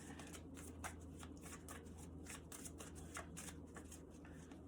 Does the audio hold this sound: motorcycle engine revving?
no